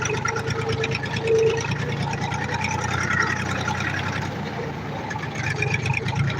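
An EM 385 small engine hums steadily at close range, a continuous buzzing drone with no break.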